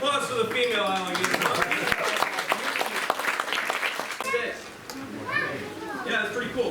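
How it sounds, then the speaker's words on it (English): Audience at an Everglades gator farm show applauds after a female alligator, steady crowd clapping under a voice talking over it, fading out toward the end. "big round of applause for the female alligator"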